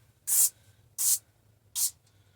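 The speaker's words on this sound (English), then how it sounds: "I have found this wonderful ghee cooking spray" Ghee cooking spray sprayed into a plastic bowl: three short, crisp aerosol bursts evenly spaced, each a bright hiss lasting a fraction of a second, close and clear with no talking.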